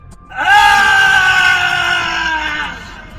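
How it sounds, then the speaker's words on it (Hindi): A cartoon ghost screams after its clay pot breaks. The cry is one loud, sustained, high-pitched wail lasting about two and a half seconds, then it tapers off, with no other sounds around it. "मटका फूटते ही भूत चिल्लाने लगता है"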